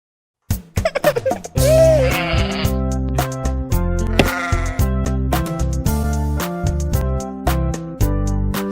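A sheep bleats repeatedly, loud and close, over a steady musical backing with plucked and sung tones.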